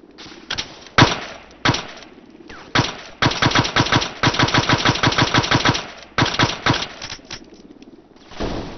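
Sustained machine gun suppressing fire during a special operations training exercise, with rapid rhythmic bursts broken by short pauses, loud and close, alongside a few separate sharp single shots.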